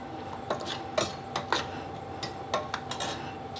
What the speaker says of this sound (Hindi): अच्छे से सभी चीज़ों को पहले हम मिक्स कर लेंगे।